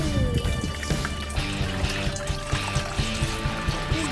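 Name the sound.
water pouring into a homemade wasp spray sprayer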